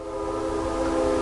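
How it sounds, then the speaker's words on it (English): A train passes on nearby railroad tracks, giving a steady, loud tonal drone with a horn-like hum that holds and swells slightly throughout, with no voices. "I don't know if you can hear the train."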